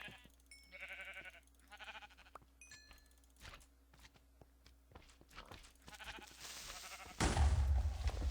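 Sheep in Minecraft bleat several times in a row near the start, followed by scattered game clicks and footsteps, with a loud burst of noise near the end.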